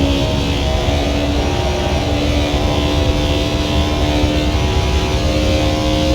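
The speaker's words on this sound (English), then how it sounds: "Not a pretty sounding car." A video-game race car engine at Watkins Glen gives a steady, rough drone with a constant low hum and buzzing harmonics the whole time, loud and unbroken.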